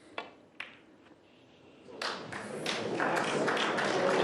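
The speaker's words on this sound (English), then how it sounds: "The crowd were clapping long before the pink got to the pocket." Snooker crowd at the 2024 World Championship final breaking into applause after a couple of ball taps, the clapping swelling from scattered hands to a broad, sustained ovation filling the arena.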